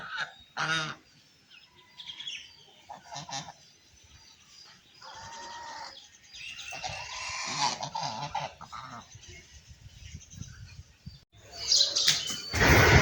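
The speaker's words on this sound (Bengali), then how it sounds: "রাজা হাঁসগুলো খাবার খাবে বলে তার গৃহস্থকে প্যাঁক প্যাঁক করে ডাকতে শুরু করেছে।" Farm ducks honk and quack loudly, calling out for their feed in scattered bursts with pauses between, and other birds chirp around them.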